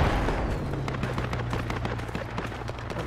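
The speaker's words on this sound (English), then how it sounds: "I'm hearing enemy fire east." Distant enemy gunfire in the military game Project Reality, a dense rumbling wash of shots and booms rolling continuously, muffled and far off.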